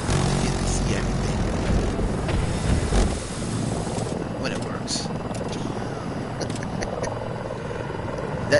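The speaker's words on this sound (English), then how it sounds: "it's good to shoot the helicopter" A helicopter in the video game Battlefield 2042 drones steadily and fairly loud throughout, its rotor rumble mixed with other game noise.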